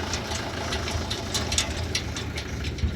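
A tractor engine runs steadily nearby, a low throbbing rumble with faint ticking clatter on top, no talking.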